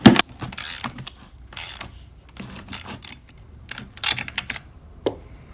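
Close ratcheting clicks and metallic mechanism noises come from a wrench tightening the nut onto an Echo chainsaw bar stud, in short irregular bursts separated by quieter gaps.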